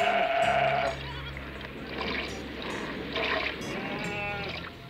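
Goats bleat nearby, a few wavering calls overlapping one another, with some soft background noise.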